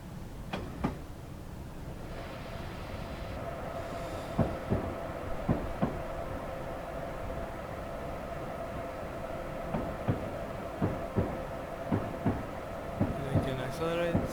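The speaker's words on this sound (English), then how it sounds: "I actually like sometimes watching the train as it makes a curve" An ACS-64 electric locomotive from Train Simulator 2015 rolls through a curve, a steady rumbling drone with scattered wheel clanks and knocks at moderate level, with a voice speaking over it.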